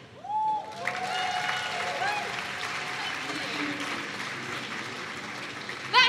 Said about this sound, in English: Can we have another round of applause for them, please?